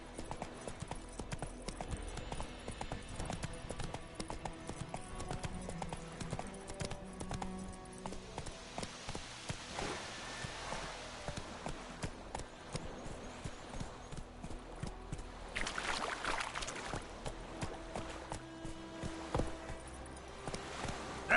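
Hooves of Roach, the horse in a video game, clip-clop in a steady walking rhythm throughout, moderately close, with game sounds and faint voices in the background.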